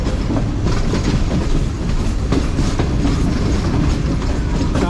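Karakoram Express train in Pakistan, hauled by a GMU 30 locomotive, running at speed with a dense, continuous roar of wheels and carriages and a rhythmic clickety-clack over the rail joints, close and loud.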